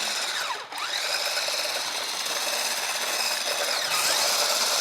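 Electric mixer with a whisk attachment whirring steadily through a banana chocolate protein shake, a continuous close motor drone with brief pitch sweeps as the load shifts.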